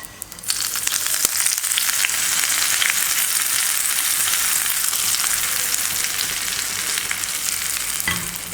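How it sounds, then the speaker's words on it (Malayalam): Curry leaf tempering for Kannur-style pineapple pachadi, an Onam sadya dish, sizzling and crackling loudly and steadily with stirring throughout, no voices. "ഇനി സ്റ്റൗ ഓഫ് ചെയ്ത് ഇത് പൈനാപ്പിൾ പച്ചടിയിലേക്ക് ചേർത്ത് കൊടുക്കട്ടെ."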